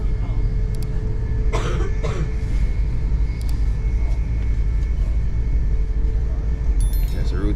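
A few short coughs rise over a steady low rumble of engine or aircraft noise, with faint talk in the background.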